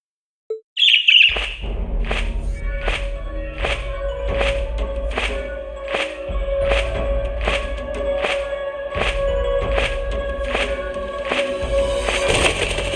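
Bird chirps from the video game Trails of Cold Steel II ring out in a rapid, steady series of bright calls over a low rumbling game soundscape, with a sharp burst near the end.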